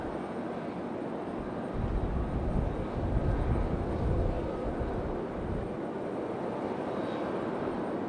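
A JetBlue Airbus A320 airliner at an airport gives off a moderate, distant engine rumble that rises briefly in the middle, then eases back to a steady low hum.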